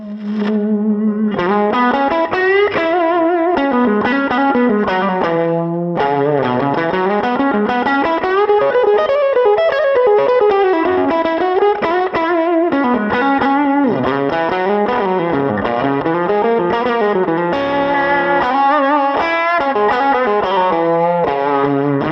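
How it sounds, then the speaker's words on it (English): Electric guitar with its volume knob all the way up gives a fuzz-like, distorted tone while playing a riff. Close, loud, continuous runs of notes fill the whole stretch. "This one I've found to sound almost like a fuzz, certainly with the volume all the way up on the guitar."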